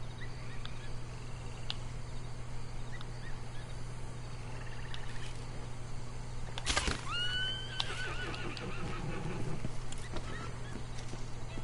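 A horse in the video game Red Dead Online gives one sharp whinny partway through, with faint hoof clops and a steady game ambience hum running underneath.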